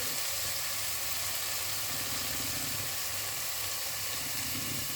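Chopped tomatoes sautéing in a pan for vegetarian mushroom biryani give off a faint, steady sizzling hiss throughout, with no pauses or talking.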